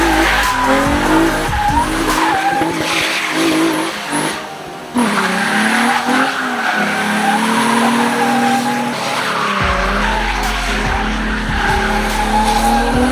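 Car tires spin and squeal loudly against pavement while the engine revs hard, a sustained high screech close by with a brief dip in the middle before the squeal picks up again.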